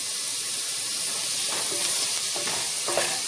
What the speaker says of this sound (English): 1/2 cup of chopped onion. To saute these for